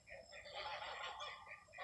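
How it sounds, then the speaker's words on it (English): Distant geese or ducks on a pond calling in a busy, overlapping chorus of honks and quacks, steady throughout with no talking. "you hear the geese or the ducks, they're over there"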